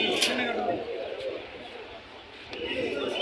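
Pigeons cooing at the Hasnabad pigeon market in Bangladesh, low soft coos repeating against a busy market background with people talking nearby.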